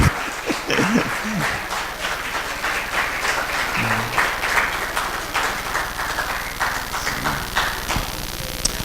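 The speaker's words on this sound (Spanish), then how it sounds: "Denle un aplauso" A church congregation breaks into steady applause, a dense crackle of many hands clapping throughout, close and fairly loud, with a few brief voices and shuffles mixed in.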